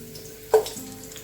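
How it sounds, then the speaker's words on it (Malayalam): Chopped onion dropped into garlic sizzling in a frying pan, a single sudden sizzling burst that quickly settles into steady frying, close and alone. "ഇതിലേക്ക് നമുക്ക് അരിഞ്ഞു വെച്ച 1 ഓണിയൻ ഇട്ട് കൊടുക്കാം."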